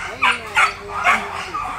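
Belgian Malinois dogs at a breeding kennel, a few short yelping barks and whines spaced about half a second apart, fairly close, with low background noise.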